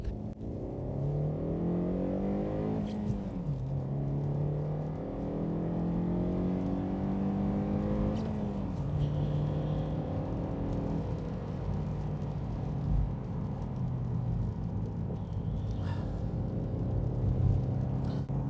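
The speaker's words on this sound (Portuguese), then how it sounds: "vamos voltar pelas curvas mais fechadas, com um pouco mais de velocidade para ver como ele se sai" A Honda CR-Z hatchback pushed quickly through tight corners on a soaking wet road, its engine note droning loud and continuous, pitch climbing and dipping with throttle and gear changes, with no talking.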